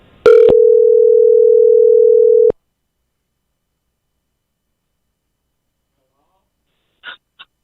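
A steady telephone dial tone sounds loud and alone for about two seconds after a 562 number is dialed on a radio show, then cuts off into silence before two brief faint voice sounds.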